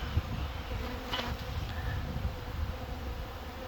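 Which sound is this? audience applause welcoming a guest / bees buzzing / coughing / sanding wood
bees buzzing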